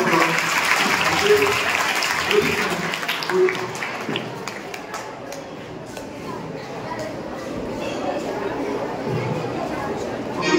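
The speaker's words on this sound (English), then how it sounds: "Give them a big round of applause." A school audience at a Navratri festival musical antakshari claps, scattered and uneven at first and then thinning into looser taps, with chatter and voices mixed in underneath.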